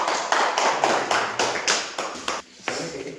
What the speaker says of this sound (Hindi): ताली बजाइए, जोरदार से स्वागत करिए